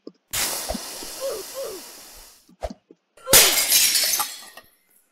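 Glass shatters twice in the Roblox obby game Escaping Freddy's Mansion: a sharp crash with a hissing spray of shards, a short gap, then a second loud breaking burst that trails off.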